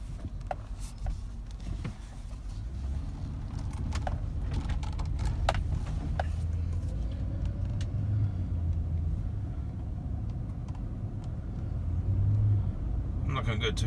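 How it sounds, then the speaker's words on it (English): A 2007 Chevy Tahoe with a traction control and StabiliTrak warning fault drives through a neighborhood, its engine and road noise forming a steady low rumble inside the cabin while someone talks over it. "Let's see what happens when I start driving again."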